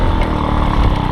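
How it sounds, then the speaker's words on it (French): A moped fitted with a Polini Top One exhaust runs steadily, its loud raspy two-stroke drone holding an even rough idle throughout, close by with no talk. "Je vais couper le moteur même parce que ça sert à rien de le laisser tourner."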